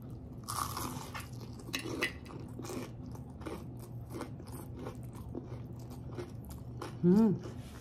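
Crunchy bites into a crispy vegetable and shrimp okoy fritter dipped in vinegar, close crackling chews spread through the clip, with one louder burst near the end.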